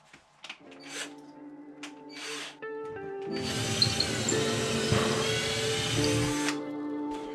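A power drill bores a pilot hole into thick flooring for a new toilet, a sustained whining motor with grinding texture after a few short hesitant starts and background knocks.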